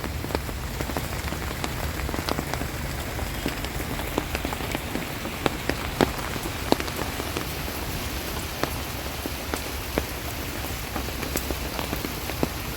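Rain falls on spice plants such as nutmeg on a natural farm in Maharashtra, making a continuous close patter with sharp individual drops striking leaves. No voices are heard.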